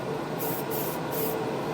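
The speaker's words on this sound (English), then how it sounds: "Just always spray a little bit first." A fresh, full-pressure spray paint can hisses in a short, steady burst up close, a continuous airy spray with no talking.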